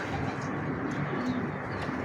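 Pigeons coo softly inside a loft as the birds are brought in, a steady low murmur of overlapping calls with faint chirps, close and continuous.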